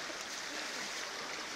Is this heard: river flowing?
yes